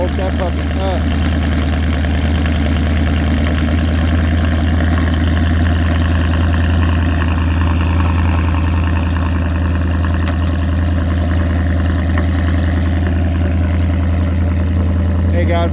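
A Ford Mustang S550 with an MBRP catback exhaust and H-pipe idles after a cold start, a loud, deep, steady rumble with a constant low throb held throughout, and a voice murmuring faintly beneath it.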